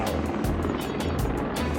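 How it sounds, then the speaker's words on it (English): A helicopter runs steady and loud nearby, its rotor thumping in a fast, regular pulse over a broad engine roar that persists throughout. "Get to the chopper now."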